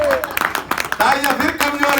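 Audience applause at a comedy show, scattered and thin clapping buried under a loud voice talking over it.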